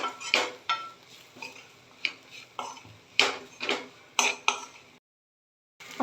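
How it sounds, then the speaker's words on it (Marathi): Dry coconut and onion roasting in a pan, heard as a close series of sharp metal clinks and scrapes of a spoon against the pan, irregular and fairly loud, ending in a brief silence. "ह्याच्यामध्ये मी ही छोटी वाटी सुकं खोबरं भाजून घेते। याच्याबरोबर कांदा अजून पण भाजला जाणार आहे।"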